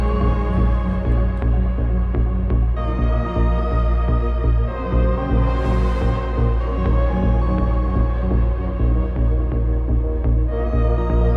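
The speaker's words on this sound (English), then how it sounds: "So that sound is called Luminal Pad." A lush, sustained synthesizer pad, the Luminal Pad preset by Limbic Bits on a Muse synthesizer, plays on its own, thick and warm, with slowly shifting chords and a shimmering swell in the middle.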